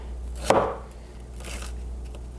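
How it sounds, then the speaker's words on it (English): A knife chops through an onion on a cutting board while preparing a vegan cabbage and sausage stew. One sharp, close chop lands, then fades into quiet room tone. "So let's just chop this onion up here"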